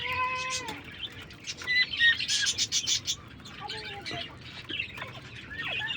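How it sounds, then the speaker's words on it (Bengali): Captive Northern Bobwhite quail on a farm calling, with several whistled, rising and falling notes and chirps overlapping against faint background noise, moderately close. "এটা হচ্ছে নর্দন বফাইট কোয়েল।"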